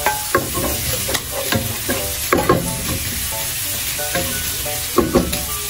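Onion and garlic fry in a pan with a steady background sizzle, broken by repeated sharp scrapes and knocks of a utensil as the pieces are stirred. The sound is close and carries no talk.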